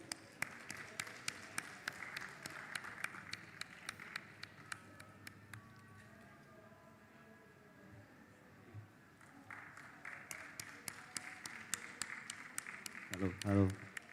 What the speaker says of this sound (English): Ladies and gentlemen, we can give them a round of applause,